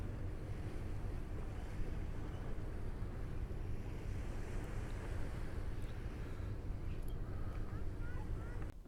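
Steady wind and surf wash along a Lake Michigan beach at Charlevoix near the lighthouse at sunset, a constant broadband roar with no pauses, close and fairly loud throughout.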